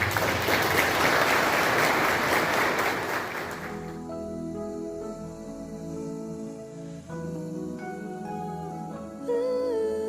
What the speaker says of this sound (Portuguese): Dá uma salva de palmas para nós.